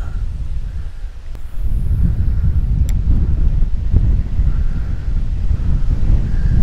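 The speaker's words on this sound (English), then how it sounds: "The wind's kind of impressive." Strong outdoor wind roars steadily and loudly at a riverside fishing spot during a drought, buffeting the microphone with a low rumbling rush that swells slightly partway through.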